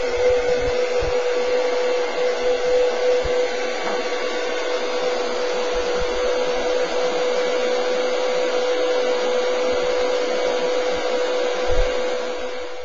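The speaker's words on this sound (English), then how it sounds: "it's time to break out the heat gun." A heat gun blows hot air in a steady, loud, unbroken whoosh while covering material is shrunk down after its edges are sealed, with a faint tonal whine running underneath.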